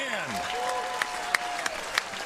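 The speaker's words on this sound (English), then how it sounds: "this crowd is really making some noise for what we just saw" A crowd at the 2021 U.S. Open pickleball pro men's doubles match claps and cheers after a point, a continuous wash of applause with a few sharper claps standing out, while a voice carries over it.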